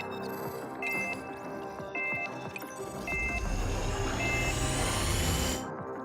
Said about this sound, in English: The spaceship engines ignite as planned, and the vessel races across the shrouded sky.